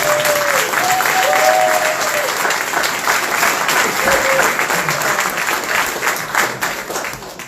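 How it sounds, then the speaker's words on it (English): A school event audience gives a round of applause: dense, steady clapping fills the space throughout, with a few brief whistles over it. "join me in giving everyone a round of applause"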